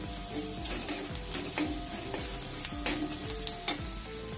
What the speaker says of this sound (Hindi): इसे 2-3 सेकंड भूनेंगे, उसके बाद हम टमाटर डाल देंगे, जिससे मसाला हमारा जलेगा नहीं।